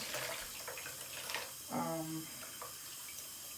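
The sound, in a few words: running water rinsing dye out of a wig ponytail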